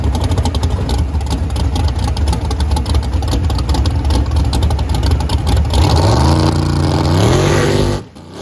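A nitrous-equipped Mustang drag car idles loudly with a rough, choppy engine note, then revs up in rising sweeps before cutting off abruptly near the end.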